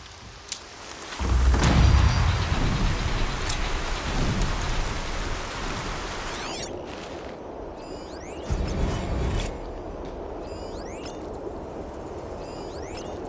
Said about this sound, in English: Everything's sharp and looming in the rain.